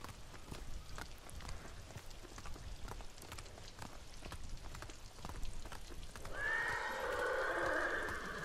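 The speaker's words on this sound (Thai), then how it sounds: "ทำไมม้าร้องแปลกๆวะ" A horse in the video game Ghost of Tsushima clip-clops along amid light rain, then lets out a loud, drawn-out neigh near the end.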